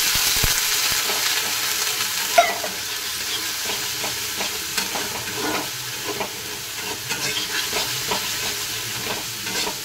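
Ginger paste frying in a pan over a low bed of hiss, with steady sizzling, a sharp spatter near the start and repeated spoon scrapes and stirs, close and clear.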